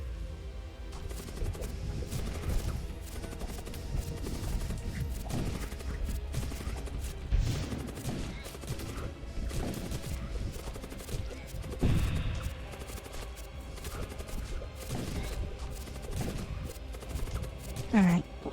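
A video game battle against Chaos Knights fills with rapid bursts of gunfire and crashing impacts, repeated volleys of sharp shots over a busy, rumbling background at moderate loudness.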